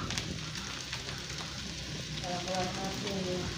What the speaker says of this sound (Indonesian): Baru masuk ini nasi goreng. Oh, baru masuk nasinya.